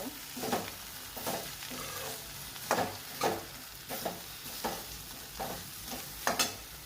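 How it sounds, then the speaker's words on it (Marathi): Okra being stir-fried in a pan, with repeated stirring scrapes and soft crackling sizzle roughly every half second, close and moderately quiet, with no talking. "मग भेंड्या टाकायच्या. चांगले परतवून घ्यायचे आता."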